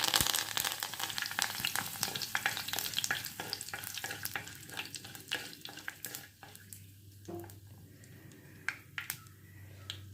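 Curry leaves hit hot oil already holding fenugreek seeds for a Kerala-style curry. They give a burst of loud crackling and spitting that settles into a quieter, uneven sizzle with scattered pops.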